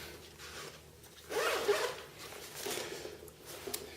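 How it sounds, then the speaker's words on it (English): A backpack zipper on a hydration pack is pulled open in a couple of quick rasping strokes, close up and fairly quiet, followed by a shorter second pull. "Open the zipper"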